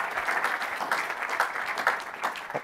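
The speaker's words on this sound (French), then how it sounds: "on peut applaudir les, euh, intervenants de cette table ronde" Conference attendees clap for the speakers of a round-table panel; a short burst of crowd applause with individual hand claps standing out in a loose, uneven rhythm throughout.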